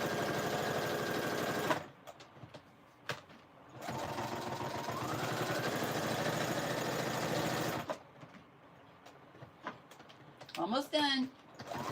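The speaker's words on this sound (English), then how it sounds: "My sewing machine." A home sewing machine runs steadily in bursts indoors, with a long continuous stretch of whirring and stitching and short pauses between runs; someone speaks briefly near the end over quieter handling noises.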